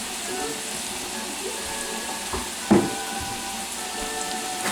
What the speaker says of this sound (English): this onion and bacon grease cooking in there too